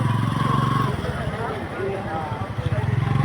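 Motorcycle engines rumble and drone nearby while several people talk over them, the engine noise steady throughout.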